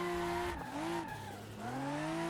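Car drifting on a mountain road in the Assetto Corsa racing game, with a steady engine drone and long tire squeal that dips and climbs in pitch as the car slides through corners, loud and continuous.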